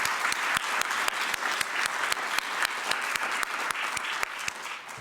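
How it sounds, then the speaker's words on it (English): Audience applause at a corporate innovation event, a soft, even patter of many hands clapping steadily with crisp individual claps standing out, fairly quiet and distant. "let's give United Healthcare a big round of applause as a financial sponsor"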